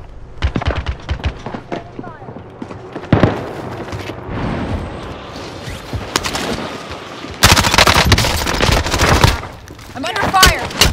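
Rapid bursts of automatic gunfire and scattered single shots ring out loud and close during a prison fight in Call of Duty Modern Warfare, broken by short pauses, with game voices talking in between.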